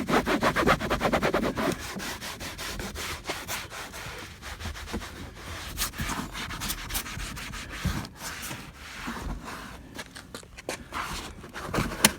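A microfiber cloth wiping and scrubbing across a car's interior door panel during cleaning gives steady, close, soft rubbing strokes, quick and brisk at first and then slower and lighter, with no voices.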